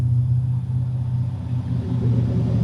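A truck rumbles close by as it drives past and slows, a steady loud low engine drone holding throughout with no talk.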